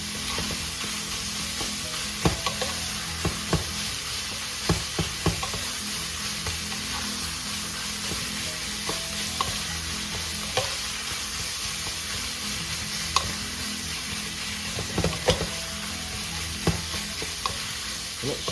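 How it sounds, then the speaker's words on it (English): Picadillo soup ingredients sauté in a pan with a continuous bright sizzle, punctuated by irregular sharp scrapes and taps of a utensil stirring, steady and close without any talking. "Continue sauteing until all the flavors combine"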